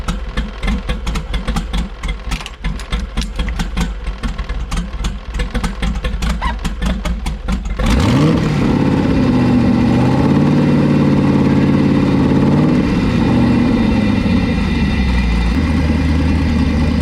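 A car engine idles steadily and close by, first with a fast ticking clatter, then settling into a smoother, louder drone while a coolant system is tested for exhaust gas.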